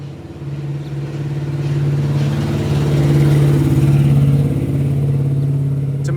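Cars on a road, a steady droning engine hum that swells as a vehicle draws near and passes, holding a low rumbling tone for several seconds before easing slightly.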